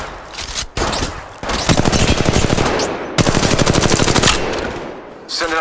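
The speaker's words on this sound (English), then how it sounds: "I'm spotted, taking fire." Rapid automatic gunfire in the mobile battle royale game Apex Legends Mobile, loud bursts of rattling shots in several sustained runs with brief pauses between them.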